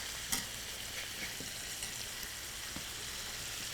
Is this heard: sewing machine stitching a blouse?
no